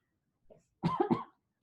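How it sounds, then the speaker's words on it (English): A single person's cough, brief and close, a short burst followed by a second quick cough, then a faint onset of another sound, with a quiet lead-in before it. "don't touch this because I just coughed into it"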